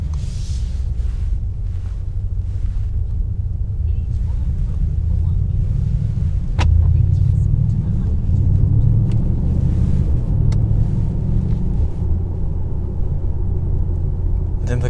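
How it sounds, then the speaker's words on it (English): A 2021 Mercedes-AMG E63 S driving with its exhaust valves open makes a deep, steady rumble with a swell of engine growl midway, heard from inside the car among wind noise. "now the exhaust valves are open"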